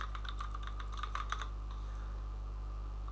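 Code is typed on a computer keyboard, a quick run of close, soft key clicks for about a second and a half, then quiet room hum.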